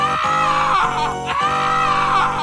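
A high, shrill child-like scream of fright at a zombie in a cartoon scene, sustained and loud for about two seconds and broken by short gasps.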